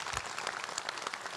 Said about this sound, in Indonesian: Tepuk tangan dong buat Bu Iin.